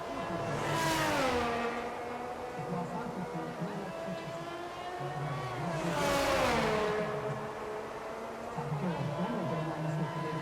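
Ferrari race car engine howls as it accelerates through a first corner, revs climbing in two loud surges with a gear-change dip between, close and continuous beneath commentary.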